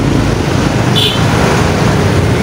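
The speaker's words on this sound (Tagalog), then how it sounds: "Alright guys, traffic time." Steady road traffic rumble with passing vehicles in a jam, a continuous loud wash of engine and tire noise with a brief higher tone around the middle.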